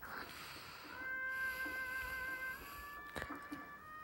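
A small kitten gives a drawn-out, high meow in the middle, then short softer mews follow near the end, close and fairly quiet against a calm indoor background.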